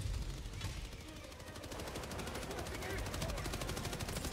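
An automated sentry turret in the video game Helldivers 2 firing rapid continuous bursts, dense and sustained throughout, mixed with other battle noise.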